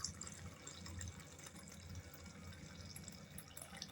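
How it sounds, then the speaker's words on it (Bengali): Milk being poured into a container while making homemade sour yogurt, a steady soft liquid trickle and splash running continuously at low level with no voices. "এরপর দুধটাকে আমি এই কন্টেনারটাতে দিয়ে দেব।"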